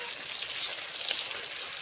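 Chara fish fries in hot oil in a pan for a curry, giving a steady bright crackling sizzle, close and even, with faint pops and no voices.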